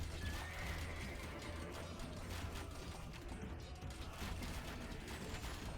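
Horses of horse skirmisher units whinny and clatter during an Age of Empires II battle near a gate, neighs and hoof clip-clop mixed into a dense, steady wash of game combat noise with no talk.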